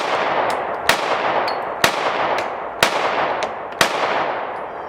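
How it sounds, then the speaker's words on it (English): A Canik Mete MC9 Prime pistol fires four evenly spaced shots, each a sharp crack with a ringing tail, heard up close over a constant background hiss. "I'm going to shoot a few rounds with the Prime"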